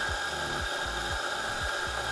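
A Fiorenzato F64 XGI electric espresso grinder grinding coffee gives a loud, steady motor whine with a repeating low rhythmic churn, close and continuous, with no one talking.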